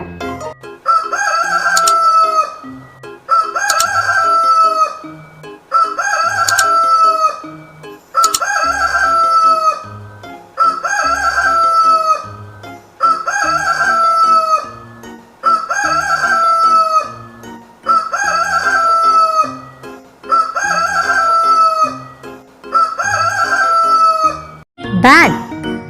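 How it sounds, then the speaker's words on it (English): A rooster crows over and over, nine or ten loud, close cock-a-doodle-doo calls in a steady repeating pattern with short pauses between, ending on a brief jingle. "Rooster."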